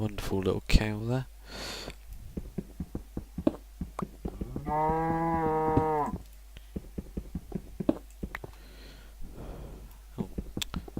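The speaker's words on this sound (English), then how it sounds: "Wonderful little cow there." A Minecraft cow lets out a long, steady moo in the middle of the clip, surrounded by sniffs, clicks and other game sounds, while a person talks at the start.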